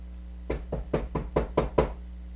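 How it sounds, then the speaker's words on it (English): Seven firm knocks on a gate in an even rhythm, close and distinct, set over a low steady hum and with no speech. "Somebody knocks."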